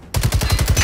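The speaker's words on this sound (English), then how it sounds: "Shooting from the top." Rapid automatic gunfire in a zombie survival video game, a fast even burst of about seven shots fired from a rooftop, loud and close, starting abruptly after a brief quiet moment.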